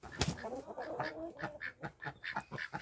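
Several ducks quack in a busy, overlapping chorus of short repeated calls, close and fairly loud, with no talk over them.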